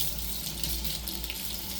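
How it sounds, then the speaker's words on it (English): Hot water runs steadily from a tap, rinsing the feathered fletching of a hunting arrow after harvesting game, a close, continuous splashing rush with no voices. "Let that hot water do its job."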